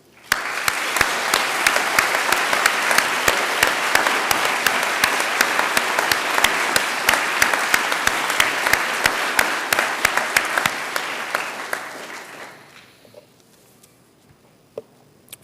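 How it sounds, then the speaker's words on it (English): Large graduation ceremony crowd at Queen's University Belfast applauding, dense sustained clapping for about twelve seconds that then fades out, leaving a few scattered claps in a quiet hall. "if you give a round of applause to the teams that have helped you all"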